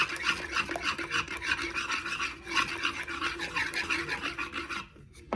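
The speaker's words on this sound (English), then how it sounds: "Get those all nice and married together, well blended with my good old Danish whisk." A Danish whisk works through sourdough English muffin batter in a bowl, making a rapid, rhythmic scraping and slapping that goes on steadily before stopping abruptly near the end.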